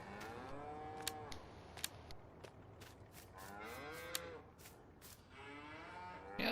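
Cows mooing in Farming Simulator 19, several long drawn-out moos overlapping one after another at moderate distance, with occasional sharp clicks between them.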